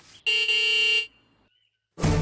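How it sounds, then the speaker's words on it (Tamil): A loud car horn blares in one long, steady honk, then falls silent before another burst starts at the end. "டாடி ஹார்ன் அடிச்சிட்டே இருக்காரு மம்மி"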